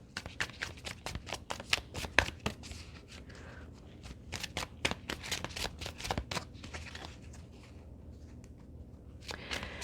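Essential Oil Oracle cards are shuffled by hand in rapid, crisp riffles and slides, a dense run of close, soft flicks that continues almost without pause.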